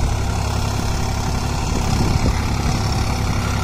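A Swaraj 744 XT tractor engine runs with a 9-tine tiller cultivator attached, a steady broadband diesel rumble and drone that stays loud and even throughout, with no talking.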